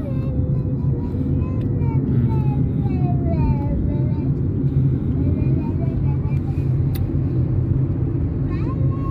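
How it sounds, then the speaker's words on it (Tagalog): A truck rumbles past a park in a steady low drone, loud and close throughout, with people chattering over the engine noise. "Truck."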